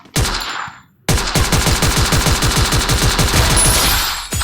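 Gunfire in the video game Free Fire: one sharp shot, a brief pause, then a long, loud automatic burst of rapid, evenly spaced rounds.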